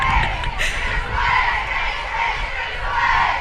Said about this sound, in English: Even more interesting chants from the crowd below.